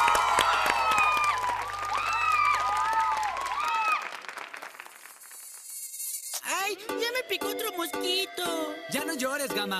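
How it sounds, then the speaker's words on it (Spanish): An audience applauds a band, a steady wash of clapping mixed with whistle-like tones and music that grows fuller and more rhythmic partway through. "Fuerte el aplauso para ellos"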